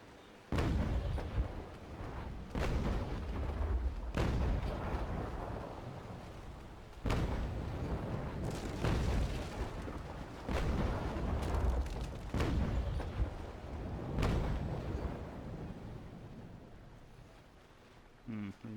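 Sailing-ship cannons fire in a Naval Action sea battle, a series of about eight heavy booms spaced a few seconds apart, each trailing off into a rumble over wind and waves.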